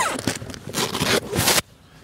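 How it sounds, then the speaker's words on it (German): A zipper is pulled along the side window of the All Weather Top on a Ca Go Premium cargo bike, making a run of close, rasping strokes that end abruptly, followed by quiet. "Da hat man hier einen Druckverschluss, einen Reißverschluss"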